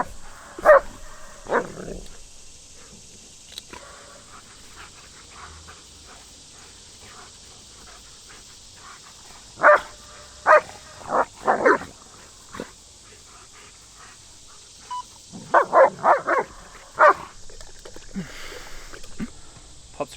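German Shepherd dogs bark at a drone outdoors on an early morning, sending short sharp barks in scattered clusters over a faint steady hiss, nearby and loud against the quiet gaps.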